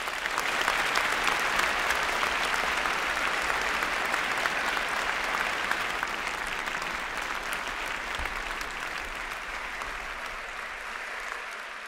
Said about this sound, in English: Please join me in a round of applause for the graduation class.